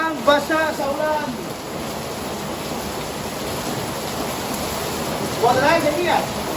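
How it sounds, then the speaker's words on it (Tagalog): Heavy rain pours in a dense, steady roar, with brief voices speaking at the start and end. "Basang-basa sa ulan."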